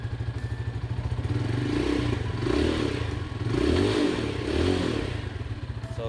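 A Sigma 250 motorcycle with its stock muffler idles with a steady low thump, then revs in three or four swelling bursts that rise and fall back to idle, close and loud.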